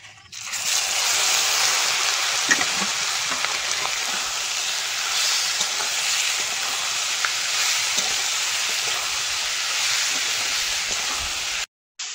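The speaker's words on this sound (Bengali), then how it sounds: "তেলের মধ্যে শুকনো লঙ্কা আর 5 ফোড়ন দিয়ে দেবো। রাখা মাছগুলো দিয়ে দেবো।" Fish fried in hot oil with dried red chillies and Bengali five-spice, cooking a river fish curry, giving a loud, steady sizzle and crackle with small pops throughout before cutting off abruptly near the end, no voices.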